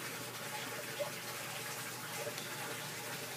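Flood water from a river runs through the inside of a house, a faint, steady rushing wash that continues evenly throughout with no talk.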